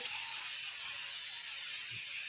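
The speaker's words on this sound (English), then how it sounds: "Coconut cooking spray." A steady, fairly quiet hiss of coconut cooking spray from an aerosol can runs without a break, with no talking.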